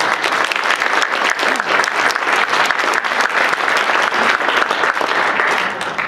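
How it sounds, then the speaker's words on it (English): A round of applause from a gathered audience at a community spiritual-care program, many hands clapping loudly and continuously without letup. "So if we could give them a round of applause for all of us."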